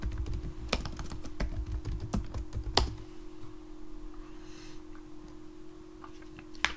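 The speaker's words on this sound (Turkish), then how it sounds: "Mesela buraya WooCommerce yazıyorum." Brisk clicking of keys on a computer keyboard while typing a word into a search field, a quick cluster of taps followed by a few sparse, quieter clicks over a faint steady hum.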